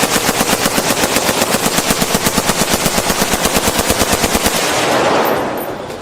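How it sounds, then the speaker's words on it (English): An M60 machine gun fires a long, steady burst of rapid, evenly spaced shots, loud and close, trailing off into a brief echo at the end. "operating the platoon's M60 heavy machine gun, opened fire, shredding the attackers with a steady hail of gunfire"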